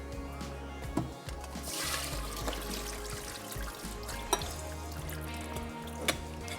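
Soaked rice is drained through a strainer as water pours and splashes in an uneven stream, fairly faint, with a few sharp clinks along the way.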